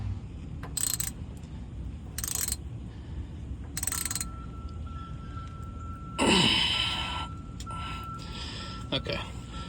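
A 3/8-drive ratchet tightens the rear differential plug under a Panther-platform car, giving three short bursts of close clicking followed by a louder clank and some mechanical rattling.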